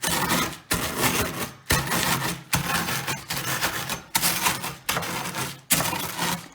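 Cornflakes are crushed with the flat side of a tool for crunchy French toast, a series of crisp crunching strokes about once a second, each a dense crackle separated by brief gaps, close and fairly loud with no talking.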